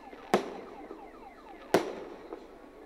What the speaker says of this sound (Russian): Завершилось празднование Дня нефтяника традиционным праздничным салютом.